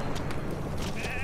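A sheep in Metal Gear Solid V: The Phantom Pain gives a short, wavering bleat near the end of a brief stretch of game ambience.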